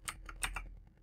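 A few quick clicks of typing on a computer keyboard, soft and close, with no talking.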